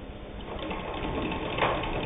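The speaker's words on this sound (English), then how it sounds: "that it has no problem whatsoever sewing 8 layers of denim" A Singer 66 Red Eye hand-crank sewing machine stitches through eight layers of denim with a steady, continuous mechanical clatter of needle and crank, close and even for about two seconds with no talking.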